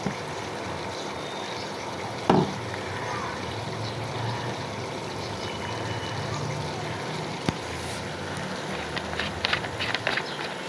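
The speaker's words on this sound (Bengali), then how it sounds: "এটা আমি তেলাপিয়া মাছের মাথা ভাজা করছি।" Tilapia fish heads fry in a pan with spices, soy sauce and vinegar, giving a steady, close sizzle throughout with a few brief clatters.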